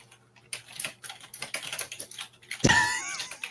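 Rapid clicking of keys typed on a computer keyboard in real time, close and steady for a few seconds before a brief, louder sound cuts in.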